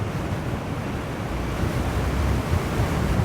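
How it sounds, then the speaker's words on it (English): Steady, heavy wind buffets the microphone while an electric unicycle cruises along a straight path, a continuous low roar with no voices. "Feels like I'm into the wind this way."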